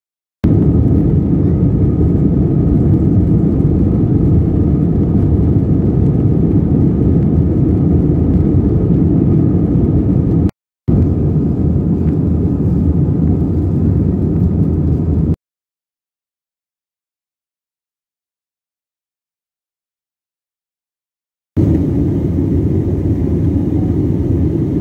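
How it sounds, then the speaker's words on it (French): Jet airliner taking off from New York bound for Florida: a loud, steady low cabin roar that briefly cuts out, drops to silence for several seconds, then returns at full strength, with no talking. "On quitte New York et on décolle vers la Floride."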